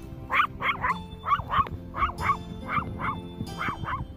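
Pregnant chihuahua gives a run of about a dozen small, high yapping barks in an uneven rhythm, close and moderately loud indoors.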